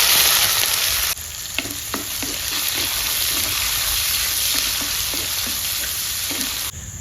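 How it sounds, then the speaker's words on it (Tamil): Fenugreek seeds, onion vadagam and small shallots fry in hot oil in a clay pot, a loud continuous sizzle with scattered stirring scrapes, the hiss easing slightly after a second and swelling again near the end. "இப்போ சட்டியே எண்ணெய் காஞ்சிட்டு நல்லா வெந்தயம், இது வந்து வெங்காய வடகம், வெங்காயம், சின்ன வெங்காயம்"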